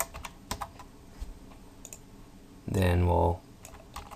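Computer keyboard typing while coding, scattered light key clicks around a brief stretch of speech.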